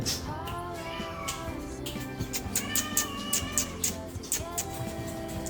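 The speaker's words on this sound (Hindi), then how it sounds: "पार्किंग फ्लोर में ना एक कैट फंसी हुई म्याऊं म्याऊं म्याऊं कर रही थी" A cat trapped on a parking floor meows over and over in drawn-out, plaintive cries, close by, with a steady low hum in the background.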